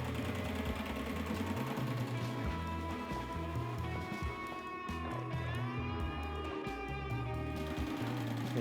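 An industrial sewing machine stitches leather in a steady, continuous run, its rapid rhythmic needle chatter loud and close with a low mechanical hum underneath and no talk.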